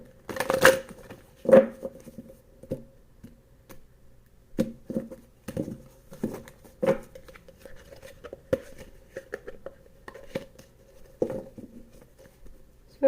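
Tarot cards being shuffled by hand in a quiet room, with irregular soft riffling bursts and light taps spread across the stretch, faint and close, with no talking.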